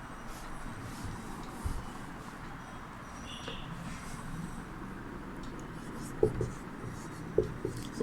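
A teacher writing an answer during a Sanskrit lesson, steady soft scratching of pen or chalk under a faint room hum, with a few louder taps toward the end.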